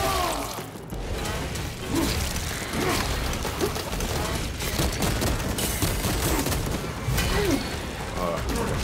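Rapid game gunfire in a Space Marines setting crackles in dense bursts, with scattered booms, under steady busy mechanical noise. A voice speaks over the battle.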